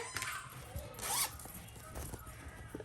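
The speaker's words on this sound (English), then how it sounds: "I'm gonna zip it real close to see what it looks like on the top" A zipper on a cotton zipper purse is drawn closed in short, raspy pulls, heard close and fairly quiet, with a faint voice in the background.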